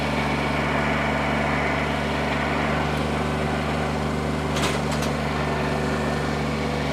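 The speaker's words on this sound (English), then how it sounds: "And I'm going to fire this tractor up." A 2020 Kubota BX2380 compact tractor engine runs steadily and loudly up close, a constant low drone with a brief higher burst midway and no talking.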